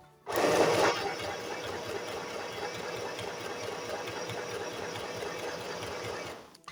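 A domestic sewing machine stitching fabric at tension setting 1, starting abruptly and running in a steady, close, continuous whir for several seconds before stopping.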